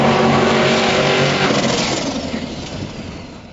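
Banks Sidewinder S10 pickup launching off the brake in low gear and burning rubber, a loud roaring engine with tire squeal that fades steadily as it pulls away.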